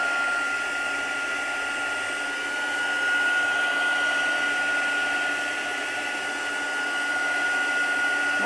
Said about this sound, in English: I'm going to put a blower on a minute. Might be a bit noisy.